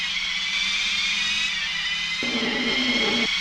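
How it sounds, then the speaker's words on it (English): A glitched car engine sound from a PS1 racing game: a thin, high-pitched whining drone with steady buzzing, like a weak electric motor, shifting pitch near the end; synthetic and constant throughout. "all the car engines on my disc copy sound like a screwdriver about to run out of battery"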